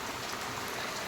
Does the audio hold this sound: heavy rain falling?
yes